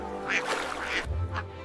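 Several ducks quack in quick, overlapping bursts close by, loud and harsh, with a deeper honk-like call near the end; no talk.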